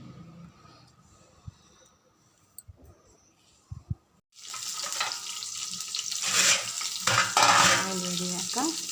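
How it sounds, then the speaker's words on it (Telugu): Channa masala ingredients being stirred and mixed in a pan: a few quiet taps and clicks, then a loud, continuous frying sizzle with rough stirring scrapes, close up and without speech. "మిక్స్ చేసి ఈ విధంగా బాగా అన్నీ కలిపేటట్టుగా మిక్స్ చేయాలండి"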